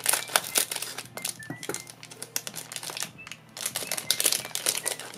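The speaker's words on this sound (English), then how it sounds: "Cut this open." Close rustling, crinkling and sharp clicks as a square blind box package is cut open, in irregular bursts with short pauses, no talking.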